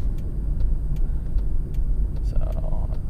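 Engine of a Cadillac XLR as the driver accelerates: a steady low rumble from inside the car, with rhythmic ticking and a faint rising tone near the end.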